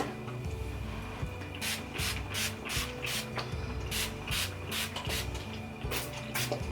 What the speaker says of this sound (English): spray my curls all over. Spray all over my hair, even the top